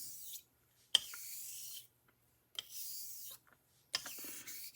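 Blade edge honed on an abrasive sharpening stone: three long, steady rasping strokes, each starting with a sharp onset and separated by short silences, close and fairly quiet with no talk.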